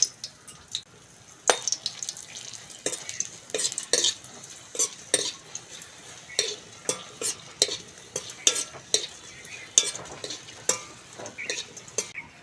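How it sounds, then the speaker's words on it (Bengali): Dried red chillies frying in hot oil give a close, crackling sizzle broken by repeated sharp spatters and stirring clatters of a utensil against the pan, in irregular bursts throughout. "সবগুলো একসঙ্গে ভেজে নেব।"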